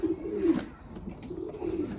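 Young racing pigeons kept outside give soft, throaty coos, with a couple of low warbling phrases at a moderate distance over light background rustle.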